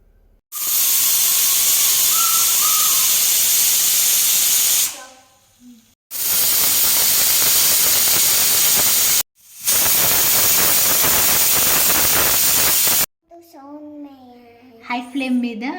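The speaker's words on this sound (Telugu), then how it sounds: "హై ఫ్లేమ్ మీద 3 విజిల్స్ అయిపోయిన తర్వాత, ప్రెషర్ అంతా పోయిన తర్వాత మాత్రమే కుక్కర్ మీద మూత తీయాలి" A pressure cooker holding sweet corn on high flame vents steam in three loud, sustained hissing bursts separated by brief pauses, with a short whistle tone early on, and a voice speaks faintly at the end.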